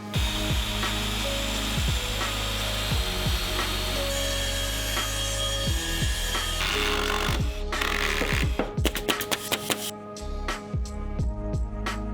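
Power saw cutting composite or wood deck boards on a residential deck build, a steady loud motor drone with repeated short cutting passes, growing busier with rapid strokes near the end.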